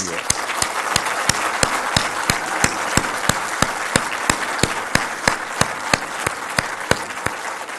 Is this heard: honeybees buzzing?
no